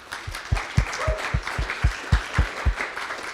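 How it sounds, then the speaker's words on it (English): Steady applause from a crowd, with regular rhythmic claps standing out over a dense wash of hand clapping throughout. "Just a round of applause for them, please."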